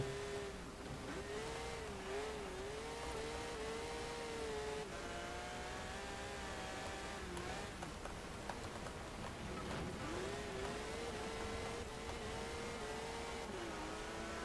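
A Porsche 911 GT3 RS engine in Forza Horizon 4 holds a continuous, close, high-pitched drone, its revs rising and falling as the car accelerates and eases off.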